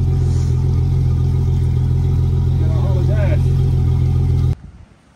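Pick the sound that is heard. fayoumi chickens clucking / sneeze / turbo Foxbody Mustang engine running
turbo Foxbody Mustang engine running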